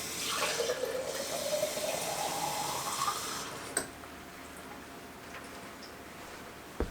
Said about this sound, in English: I'm going to add some, probably 2 quarts of water.